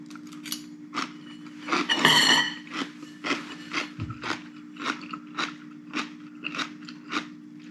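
Crunchy chewing of fermented cabbage curtido with jalapeno and carrot, close and crisp, a dense crunch followed by a steady run of rhythmic bites and chews, with no talking.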